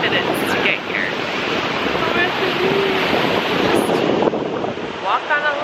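Ocean surf rolls steadily onto a California beach on a warm summer day, a continuous broad wash of breaking waves with wind buffeting the microphone throughout.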